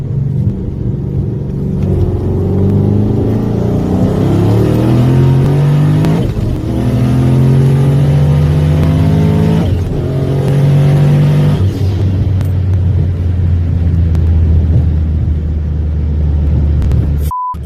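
A 1000+ horsepower Hellcat engine roars as the car accelerates hard on a run, pitch climbing through several gear shifts, loud and continuous, ending with a short beep.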